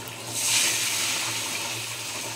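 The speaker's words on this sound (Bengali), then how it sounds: "এবার আমি এর মধ্যে দিয়ে দেবো একটু জল" Water splashes into a pan of tilapia curry being cooked in oil, a steady close pour that swells early and then settles into a continuous wash over the sizzle.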